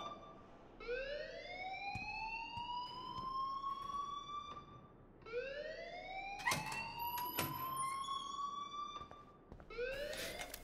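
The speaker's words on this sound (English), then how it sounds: "please turn off that alarm since that's your job" An alarm blares in the video game Life is Strange: a loud, harmonic whooping tone that sweeps upward and holds, repeating in cycles of about four seconds with no voices over it.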